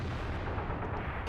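Artillery shot from a Bat. Chatillon 155 58 self-propelled gun in World of Tanks, a dense, sustained rumbling boom filling the whole short moment, loud and close with no pauses.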